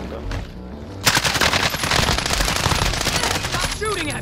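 Rapid automatic gunfire in Call of Duty: Modern Warfare bursts in after a quiet second and keeps up a loud, dense rattle of shots for the rest of the moment, with a faint voice underneath.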